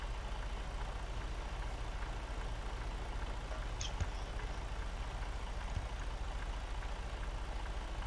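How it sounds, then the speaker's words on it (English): A truck engine in American Truck Simulator, hauling FedEx triple trailers through eastern Oregon, runs as a steady low drone at moderate volume, with a brief hiss near four seconds and no talk. "listen to the sound of the truck extremely loudly."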